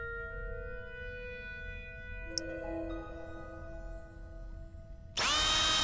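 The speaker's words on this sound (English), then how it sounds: "I've put a nice round hole in it. That explains the power tool." Power tool drilling a hole, from a video game: a steady whining drill tone with stepped pitch shifts runs for about five seconds, then a louder, brighter burst of drilling near the end, with no talk.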